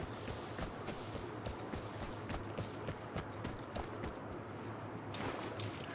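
Galloping horse hooves in a video game, a fast continuous patter of hoofbeats at steady pace, moderately faint over a broad outdoor noise bed.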